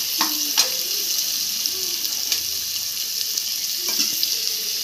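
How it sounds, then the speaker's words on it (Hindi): Brinjal (eggplant) pieces being lightly sautéed in a pan for baingan bharta, giving a steady soft sizzle with a few sharp spatula scrapes and knocks against the pan, close by and without talk. "हल्का सा इसकी कच्चापन निकलने तक भून लेंगे"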